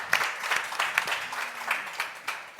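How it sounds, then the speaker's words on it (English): An audience at a music industry event breaks into applause, a moderate wash of scattered hand claps with a few sharper claps standing out, heard from within the hall. "Applause"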